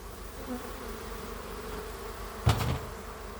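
Honeybees buzz at a healthy hive during colony balancing work, a steady close hum of many insects with one loud, brief buzz as a bee passes right by the microphone.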